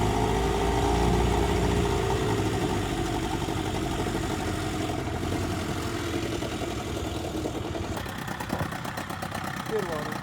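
A Chrysler 20 HP outboard motor idles steadily on a boat, a continuous close engine drone with a brief change in texture near the end.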